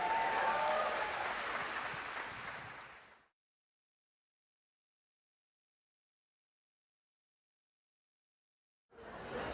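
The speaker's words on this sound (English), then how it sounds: "can we just get one more round of applause for our storytellers tonight" An audience at the Nebraska Storytelling Festival gives storytellers another round of applause, loud crowd clapping that fades out, then silence, before clapping briefly resumes.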